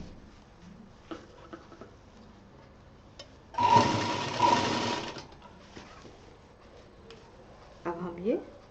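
Sewing machine stitching fabric piping, a steady buzzing run of about a second and a half close by, set between quiet handling noises and brief talk.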